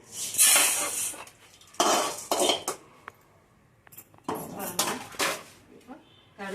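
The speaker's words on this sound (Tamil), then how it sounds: "கடுகு வறுக்கிறோம் கடுகு வறுக்கும்போது ஒட்டாப்பில் வறுத்து கிண்டி நல்லா பொரியணும்" Mustard seeds dry-roast in a pan as a spice powder is prepared. A metal spoon scrapes and clinks against the pan in close, irregular bursts separated by short pauses, and a voice speaks in between.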